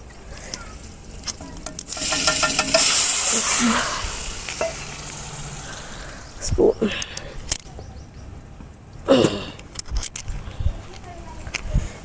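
Oil hisses and sizzles loudly for a few seconds as chutney tempering spices hit the pan over a wood-fired stove outdoors, followed by quieter crackling and a few metallic stirring clinks.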